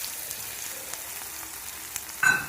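Finely chopped onions frying with cumin in hot oil, a soft steady sizzle with faint ticks and a short louder burst near the end.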